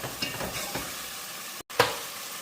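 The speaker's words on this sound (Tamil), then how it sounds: "கிண்டிட்டு நல்லா வதங்கட்டும்." Onion, tomato, ginger and garlic sauté in a pan as a spoon scrapes and stirs through them, giving soft repeated strokes over a steady close sizzle, broken by a brief moment of silence.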